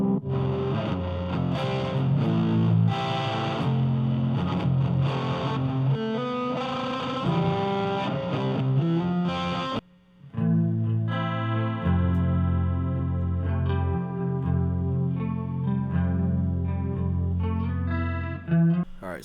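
Midwest emo style electric guitar played through heavy effects, with distorted, chorus-washed chords and riffs, a brief pause midway, then more layered, ringing notes.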